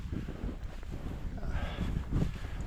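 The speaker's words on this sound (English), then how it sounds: "it's way windier and colder down here" Cold wind gusts by a deep lake at a winter campsite, buffeting the microphone in a steady low rumble that swells toward the end, with faint voices underneath.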